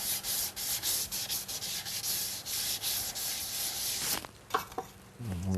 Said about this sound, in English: Let's get a nice polish to it here.